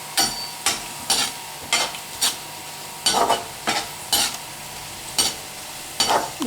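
Cabbage pakoda fry in hot oil while being stirred, a steady faint sizzle broken by repeated sharp scraping strokes at an even rhythm.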